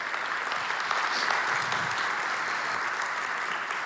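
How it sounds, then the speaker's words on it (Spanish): A church congregation at a Sunday family service applauds the team, producing a dense, even roar of many clapping hands that stays loud and unbroken from start to finish, with no voices on top. "Les damos un aplauso al equipo que estuvo trabajando ahí"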